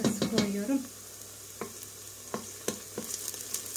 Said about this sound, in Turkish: Salçayı da beraber de kavuracağım biraz.